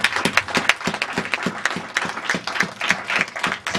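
A church congregation claps in praise, a dense stretch of many hands applauding in an irregular, lively rhythm that fills the hall, with a few voices mixed faintly underneath.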